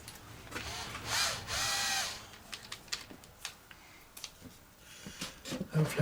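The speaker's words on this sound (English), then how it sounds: "drill bit, drill for a pilot hole" A small power drill boring a pilot hole into a model aircraft during engine mounting, two sustained whirring bursts of a second or so each, followed by scattered light clicks and handling noises.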